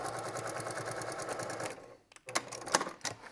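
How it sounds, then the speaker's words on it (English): Sewing machine topstitching a boxed zipper pouch with a brass zipper, a steady rapid needle rattle that runs, stops, then resumes in short uneven bursts, close up. "I top stitched all the way now out through the edge"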